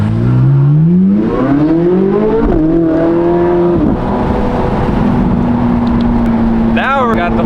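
Hyundai Elantra N-replacement car's engine and exhaust pulling hard while driving, loud and close, revs climbing through gears then settling into a steady drone, with a brief rising whine near the end.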